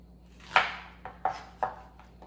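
A knife chopping through an onion on a cutting board during vegan meal prep, four distinct cuts spaced irregularly, close and fairly clear with no talking.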